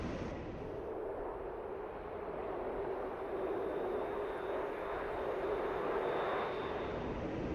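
Simulated aircraft engine drone during a landing approach in DCS World, a steady low hum with a faint high whine above it, continuous and even without voices.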